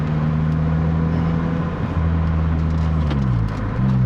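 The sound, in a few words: 2007 Lotus Exige S driving, engine sound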